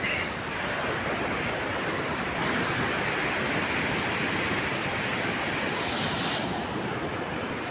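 Sea waves wash steadily over coastal rocks covered in moss, making a loud continuous roar of surf mixed with wind noise, with no voices.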